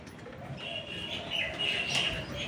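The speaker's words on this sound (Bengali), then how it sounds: "তো সবকটা পায়রাকে ওঠানো কমপ্লিট হয়ে গেছে" A flock of pigeons, just called back up to their loft, gives soft, fairly close cooing and chirping calls over low background noise.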